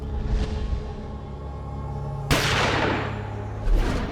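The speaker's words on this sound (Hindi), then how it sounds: "फिर शब्बीर ने गोली चलने की आवाज सुनी" A single gunshot sound effect strikes sharply and loudly over a low droning music bed, its crack decaying slowly, with a softer burst following near the end.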